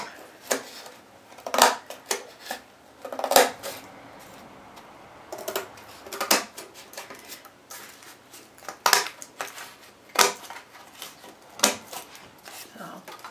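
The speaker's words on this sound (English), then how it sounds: "Be very careful if you use an X-Acto knife because it's sharp, but this board is very thin" Sharp X-Acto knife slicing through thin board for paper clay wings, a series of close, crisp scraping cuts in irregular bursts, with a person talking in between.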